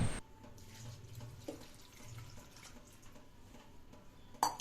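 A steady, soft stream of water, about one and a half glasses, pours into a cooking pot of carrot and bean curry, with a clink near the end.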